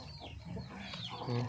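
A breeding rooster at a Thai gamecock farm gives low, throaty clucks close by, a few short calls over faint farmyard background noise.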